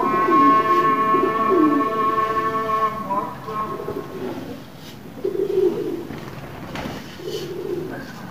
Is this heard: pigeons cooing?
yes